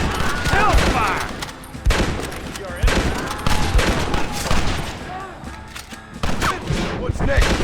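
Sustained battle gunfire in Red Dead Redemption, rapid volleys of rifle and revolver shots firing in bursts and overlapping cracks over several seconds, loud and near, with voices calling out between shots.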